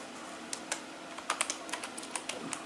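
Computer keyboard typing in an HTML lesson, a run of crisp separate key clicks in irregular bursts, close and alone over a faint background hiss.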